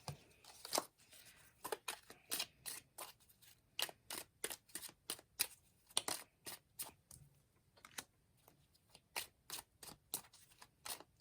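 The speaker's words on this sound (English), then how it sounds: "Just as I'm shuffling, I just got to look at the bottom of this." A deck of oracle cards is shuffled close up: a long run of sharp, crisp card riffles and snaps in uneven bursts, fairly quiet, with no speech over it.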